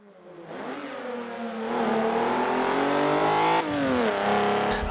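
A French car accelerates hard out of a hammerhead corner, its engine revving steadily upward with rising harmonics, loud and close, a brief gear change near the end before pulling on again.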